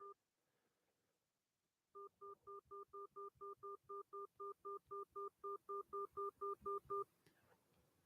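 An automated telephone system on a scam call plays a rapid, evenly spaced run of about eighteen identical two-tone beeps. The beeps come after a short silence and end abruptly.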